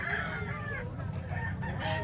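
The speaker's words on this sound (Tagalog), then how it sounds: "Daming manok sa Kalumpit mga bossing." Roosters crow over a steady background of clucking chickens at a crowded poultry market in Calumpit, Philippines, a busy, close flock with overlapping calls.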